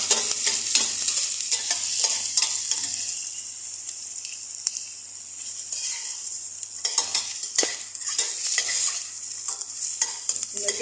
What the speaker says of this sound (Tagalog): Ginisa ko na po yung sibuyas, bawang, luya.